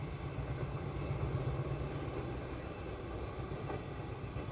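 Fajar Utama Jogja passenger train from Yogyakarta bound for Pasar Senen, passing a trackside spot at Tumiyang, Banyumas, with a steady low rumble of rolling railcars throughout, fairly distant and without talk.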